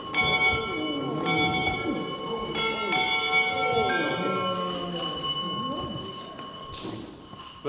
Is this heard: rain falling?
no